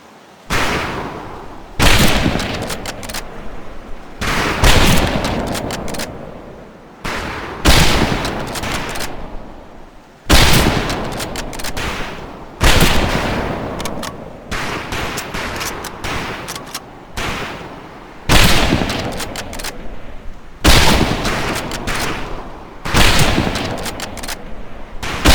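Rifle fire at targets on a training range in Medal of Honor: Pacific Assault, a World War II shooter: about a dozen loud, sharp shots spaced roughly two seconds apart, each with a short decaying tail.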